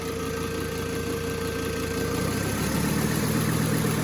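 Toyota 1PZ diesel engine idling rough below its set idle speed on a cold start. It gives a steady, close mechanical clatter and drone, with the low throb shifting partway through.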